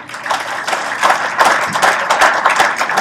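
A crowd at a Massachusetts hockey Hall of Fame awards dinner applauds Hall of Famers with steady, dense clapping that swells slightly and carries on evenly, close and fairly loud.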